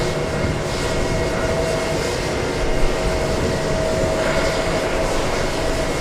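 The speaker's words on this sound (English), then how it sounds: "JetBlue 1391 flying to the ATL" A JetBlue jet airliner departs JFK Airport for Atlanta, producing a continuous, loud engine rumble with a faint steady tone running through it and no pauses.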